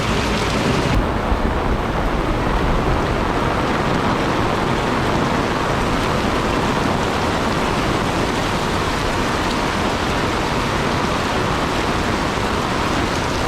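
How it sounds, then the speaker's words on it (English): Heavy tropical storm rain pours down during flooding in Jaco, Costa Rica, a thick, constant roar of falling water that stays loud and broad throughout with no speech. "It's an incredible amount of rain is coming down."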